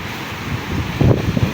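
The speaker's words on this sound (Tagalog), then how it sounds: "Kumukulo na yung dagat." Wind rushes over a low, rumbling churn of rough, churning sea surf after a typhoon, swelling louder near the end.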